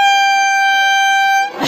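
A cheap plastic toy horn from a village fair in Konkan gives one long, loud, steady buzzing honk with a bright harmonic tone, stopping abruptly near the end.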